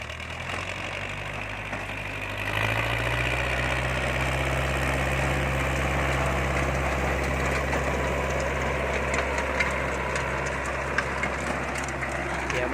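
A Kubota M5000 tractor engine rumbles steadily, growing louder and heavier a couple of seconds in as the rotary tiller engages and keeps churning.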